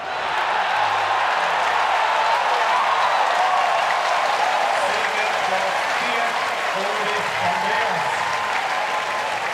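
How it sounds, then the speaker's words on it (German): A stadium crowd at a Swiss wrestling festival cheers and applauds, a broad steady roar of clapping and voices from the stands heard throughout with a commentator talking over it. "im Hintergrund hören wir das Stadion jubeln"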